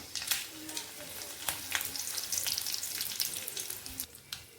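Mustard seeds, onion and dried red chilies crackle and sizzle in hot oil while tempering for rasam, a steady close-up frying hiss with sharp pops scattered throughout.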